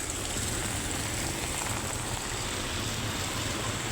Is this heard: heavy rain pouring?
yes